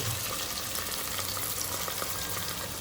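Ingredients for chicken biryani fry in a pan, a loud, continuous close-up sizzle with dense crackling that holds steady throughout, with no voices.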